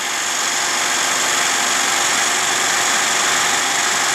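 Cordless drill spinning a Vevor 12V 800W wind turbine at full speed, a steady loud high-pitched whine and whir with constant broadband hiss, unchanging throughout and heard alone without talk.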